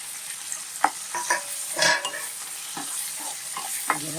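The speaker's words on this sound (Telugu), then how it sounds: "ఇప్పుడు ఉల్లిపాయలు వేగిన తర్వాత టమాటా వేసుకుంటే చాలా రెండు కూడా ఈక్వల్గా వేగుతాయండి" Onions, tomatoes and green chillies fry in a pan under a steady sizzle, with a spoon scraping and stirring in several short strokes close by.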